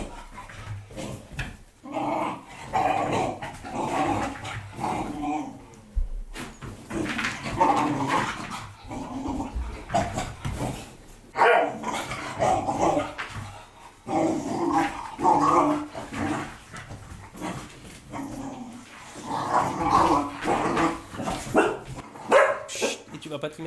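A small dog barks and growls in a home, with short gruff bursts and throaty rumbles recurring throughout, mixed in with a person speaking.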